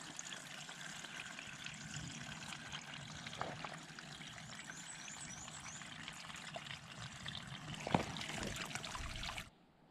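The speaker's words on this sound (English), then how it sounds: "Getting my water straight from the leaf." Water trickles and pours steadily off a leaf at a trailside spring on the Appalachian Trail, a continuous close splashing stream with no voices, cutting off abruptly at the end.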